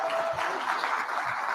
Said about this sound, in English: Everyone give a round of applause, please.